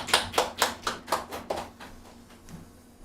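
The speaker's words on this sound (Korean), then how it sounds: "우리 하나님께 감사의 박수 드리겠습니다." A church congregation at a Sunday worship service claps in thanks to God, about seven or eight distinct, fairly even claps that slow and thin out into quiet.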